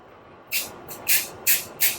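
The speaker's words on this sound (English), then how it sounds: "So then I'm going to spray with the adhesive on here like that." Four short hissing bursts from a can of spray adhesive, spaced about a third of a second apart, close and fairly loud.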